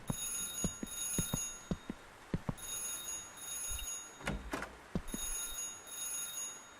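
A telephone in a horror video game rings in repeated bright electronic bursts separated by short gaps, fairly faint, with a few thumps and footsteps in between.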